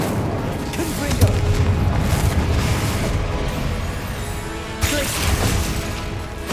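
The Confringo explosive spell in Hogwarts Legacy goes off during a boss fight against a giant armored knight, giving dense rumbling booms and crackling blasts that run continuously, with a sharper hit near the end.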